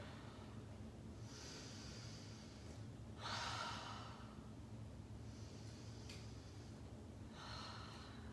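Slow, deep breaths during a yoga session, faint airy inhales and exhales in several separate swells across a quiet room, no speech.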